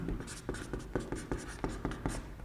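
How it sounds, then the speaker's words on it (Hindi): Chalk writing on a classroom board during a Class 12 chemistry lesson, a quiet run of rapid scratchy strokes and taps in an irregular rhythm, close and alone. "इसको मैं लिखता हूं धीरे धीरे"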